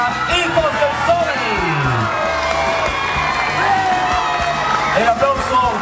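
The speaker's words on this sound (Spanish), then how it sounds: "El aplauso para quienes rescataron nuestras tradiciones en esta oportunidad y que a juicio del jurado resultaron ganadores" Loud crowd at an outdoor carnival of colours prize-giving, cheering, whooping and clapping for the winning folk group, with shouts and voices mixed through and music-like tones in the background.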